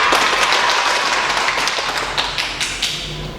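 Children at an online Sunday school worship service clap in a loose burst, close and lively, with sharp slaps at first that gradually thin out and fade.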